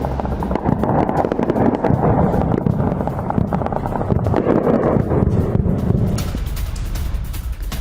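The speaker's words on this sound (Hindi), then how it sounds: "यहां पर भी विस्फोट हुए हैं और लगातार विस्फोट की आवाज आ रही है।" Missile strikes in Iran set off explosions heard from a distance as a dense, continuous run of rumbling booms and crackling blasts, loud and buffeted by heavy wind noise, easing slightly near the end.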